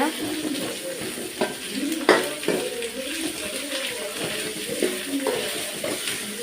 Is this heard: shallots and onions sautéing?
yes